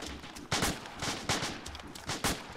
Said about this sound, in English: Look, we're getting shot at.